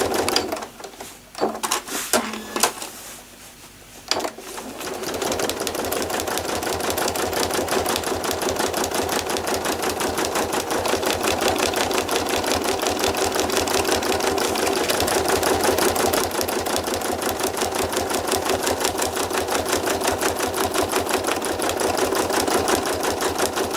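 A domestic sewing machine runs continuously, stitching trapunto flowers with a double line of backward stitching. A few short bursts and stops come first, then a long, steady, even mechanical whir dominates.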